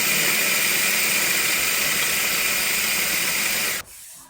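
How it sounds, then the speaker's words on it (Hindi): Electric chopper grinding roasted flaxseeds, a loud, steady whirring motor roar with a bright hiss that runs continuously, then cuts off abruptly near the end, leaving quiet. "मैं तो ये चॉपर के अंदर ही ग्राइंड कर रही हूँ"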